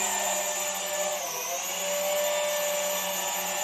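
A Garuda toy drone lifts off at the press of a button, its small propellers giving a steady, close, high-pitched whine with a brief dip in pitch partway through.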